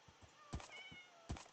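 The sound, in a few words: cat meowing in a video game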